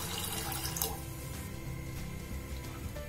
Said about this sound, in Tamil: அடுத்ததான் நம்ம தேவையான அளவு தண்ணி இதோட சேர்த்துக்கலாம்